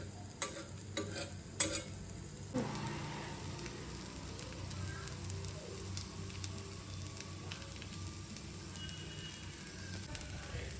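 A ghee-coated dosa roasting on a hot pan, giving a steady, soft crackling sizzle throughout, with a few sharper pops and taps at the start.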